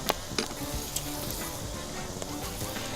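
Coarse salsa with lime juice cooking down in a pan outdoors in the woods, a steady close sizzle with a few brief scraping clinks of stirring, no talking.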